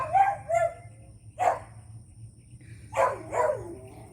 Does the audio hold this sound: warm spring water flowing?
no